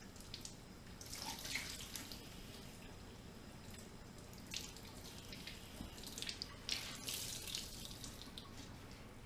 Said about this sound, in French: Mon deuxième torchon sera mouillé aussi à l'eau chaude.